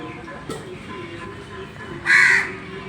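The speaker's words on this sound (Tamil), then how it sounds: "காகம்" A single loud crow caw rings out near the end over faint background noise as the crow takes offered rice, preceded by a soft short sound.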